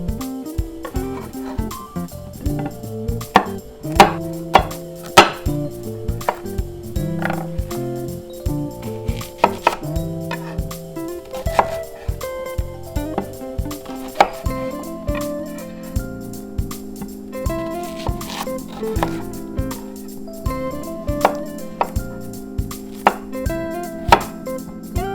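Knife chopping potatoes, carrots, onions, zucchini and mushrooms on a cutting board, with steady rhythmic taps throughout over quiet background music, no talking.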